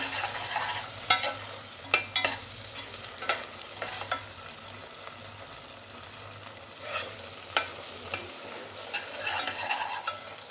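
Masala spices for chicken dum biryani sizzle and fry in hot oil, with a steady crackle broken by repeated scraping stir strokes from a spoon across the pan.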